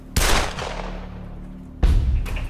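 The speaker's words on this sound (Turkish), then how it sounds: "O tabanca sesiydi sanırım." Two pistol shots in a tense drama scene, each a loud, sharp crack with a long ringing decay, the first early and the second near the end, with no talk over them.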